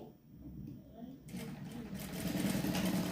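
A sewing machine stitches a double seam on a blouse, starting quietly and then running in a steady close whirr that grows louder toward the end, with a voice speaking over it.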